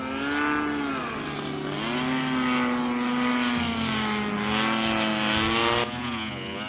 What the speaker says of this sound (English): Here, the aircraft is switched into autonomous mode as it hits its first waypoint.